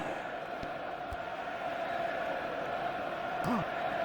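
Crowd noise from the Jonah Lomu Rugby video game, a steady broad roar of a stadium crowd reacting through the whole stretch, with a couple of faint thuds and a brief swoop near the end.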